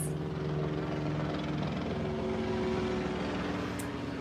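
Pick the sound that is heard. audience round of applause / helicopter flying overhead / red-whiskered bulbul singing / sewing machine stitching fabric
helicopter flying overhead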